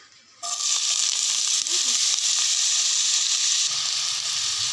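Potatoes hit hot oil in a wok and burst into a loud, sustained sizzle after a brief quiet moment, hissing steadily to the end.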